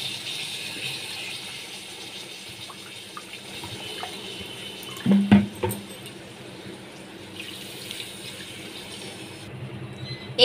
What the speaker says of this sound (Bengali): এখানে আমি 3 বাটি জল দিয়ে দিয়েছি।